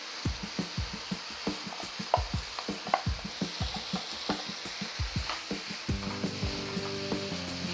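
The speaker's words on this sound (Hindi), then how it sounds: "तो दलिया को मिक्स कर लेंगे सब्जी में इस तरह से।" Dalia is stirred into vegetables cooking in a pan, a quick steady rhythm of spoon scrapes and knocks over a constant sizzle, joined near the end by a low steady hum.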